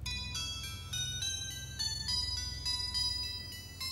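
A mobile phone ringtone plays a bright electronic melody of stepped, repeated tones. It is loud and continuous for several seconds, with no voices over it.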